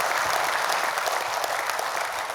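Warm applause from a conference audience of civil contractors for New Zealand's Prime Minister, steady dense clapping throughout the brief moment.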